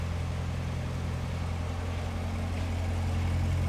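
2014 Corvette Z51 3LT V8 engine idling with a deep, steady, loud rumble heard close, no talking over it.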